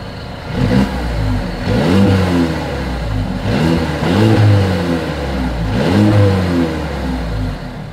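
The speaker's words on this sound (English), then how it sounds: "As always, here is that exhaust clip." A 2023 Mercedes-Benz CLA 350 with dual exhaust revving hard three times in succession, each loud rising roar falling back to a throaty idle between blips, close and alone.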